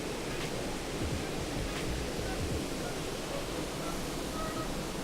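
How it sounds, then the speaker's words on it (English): The main waterfall at a glen pours as a steady, broadband rushing roar, constant and close, filling the whole clip with no talking over it. "This is the main waterfall."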